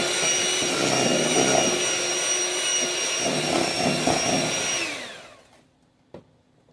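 An electric mixer whirs steadily through banana bread batter with a loud, continuous motor whine. It winds down and stops, followed by a single brief click.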